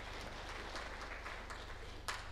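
Faint, distant clapping from an audience at a World Press Freedom Day conference in Arusha, a thin continuous patter with a low steady hum underneath.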